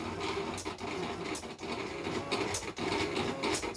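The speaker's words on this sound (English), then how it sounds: "It's a silhouette cutter, Silhouette Cameo 3." A Silhouette Cameo 3 cutter cutting vinyl, giving a continuous mechanical whirr with rhythmic motor pulses and brief pauses as the carriage shifts, close and fairly loud, with no talking.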